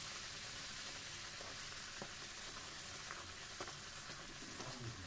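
Luchi puffing up as it fries in a small amount of hot oil, giving a steady, close sizzle with faint crackles throughout and no talking.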